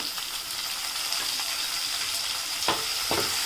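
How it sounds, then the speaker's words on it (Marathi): Finely chopped tomato sizzles in a pan with fried onion and garlic, giving a steady close crackle and hiss, with a few stirring clatters near the end and no talking. "यामध्ये आपण बारीक चिरलेला टोमॅटो घेऊयात"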